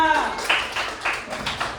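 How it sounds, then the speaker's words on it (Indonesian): Students in a classroom clap for a classmate in a brief burst of close, crisp handclaps, with a voice heard briefly at the start. "Beri tepuk tangan pada Bapak dua."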